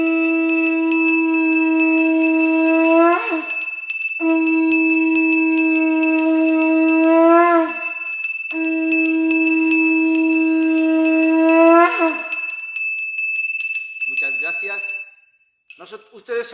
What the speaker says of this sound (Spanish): ustedes saben siempre ver que yo usar estas dos, uno campana y otro es caracola.